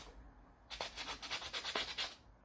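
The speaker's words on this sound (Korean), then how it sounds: "사포질을 가장자리랑 면적 모두 다 사포질을 잘 해주시기 바랍니다" Sandpaper rubs back and forth across a small wooden toy car in quick, even strokes, a close, raspy scratching about a dozen times after a brief quiet start.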